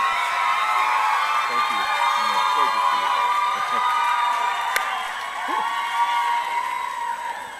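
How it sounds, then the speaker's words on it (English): A large crowd at an awards presentation honoring women cheers, whoops and claps in a continuous roar, with a voice audible over the noise. "That may be one of the biggest reasons they're cheering tonight."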